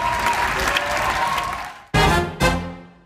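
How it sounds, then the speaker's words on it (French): Audience applause at an advertising awards ceremony, a dense steady clapping that fades out, then two short loud bursts of clapping near the end. "Un tonnerre d'applaudissements pour le créateur des pubs vivants, Jean-Marc Foucault."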